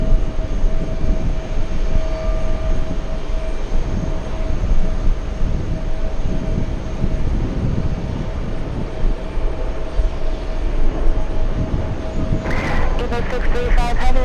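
An EVA Air Boeing 777 departing JFK: a loud, continuous broadband jet roar with a steady low rumble and a faint tonal whine, while people talk over it, ending in a short burst of rapid ticking.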